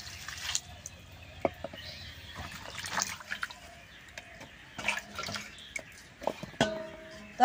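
Raw green banana is washed under water in a kitchen, with soft splashes, drips and handling noises coming in irregular bursts, quiet and close.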